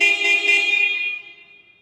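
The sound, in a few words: motorcycle horn honking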